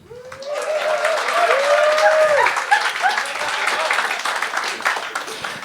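A comedy show audience bursts into sustained applause and cheering, loud and dense throughout, with some voices calling out inside the crowd noise.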